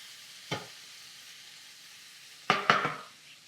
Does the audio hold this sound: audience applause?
no